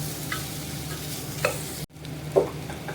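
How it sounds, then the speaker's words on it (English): Small cubes of potato fry gently in ghee in a pan, a quiet soft sizzle under a few light scrapes and stirs of a spoon, with a brief clunk near the middle. "Once these are a little sauteed and little bit they absorb the ghee"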